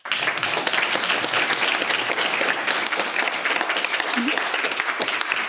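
Lecture audience applauding at the end of a talk, a dense sustained wash of clapping from a large crowd at moderate distance, steady for several seconds.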